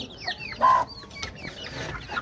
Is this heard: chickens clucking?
yes